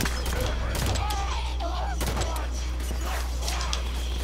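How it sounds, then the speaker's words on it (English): Pistol shots in the shooter game Halo 5 Guardians during a campaign firefight: a few sharp, close cracks spaced apart over a steady low rumble of game sound, with other effects layered in. "I got him with like the last bullet of my pistol"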